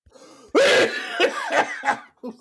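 A burst of harsh coughing followed by several shorter coughs and throat-clearing sounds, loud and close, with no talking.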